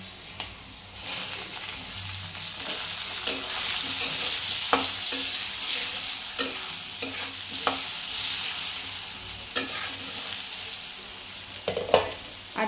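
Tomatoes sizzle steadily in hot oil for a pabda fish curry base seasoned with turmeric, with sharp spoon clicks as the pan is stirred every second or so; there is no talking.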